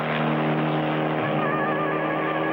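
Cartoon race cars speed around a track in a Clutch Cargo race, a steady loud engine roar with whining pitch and a brief tire skid, continuous and close throughout.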